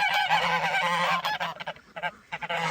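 Several domestic geese at a backyard pond honk loudly and nearly nonstop, a dense overlapping chorus of nasal calls close by, briefly thinning out before swelling again.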